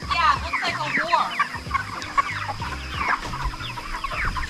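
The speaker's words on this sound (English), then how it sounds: "There's chickens just laying out dying out here." Chickens in a field schooner enclosure clucking continuously, with a steady mix of low, repeated clucks and higher squawks close by, and no talk over them.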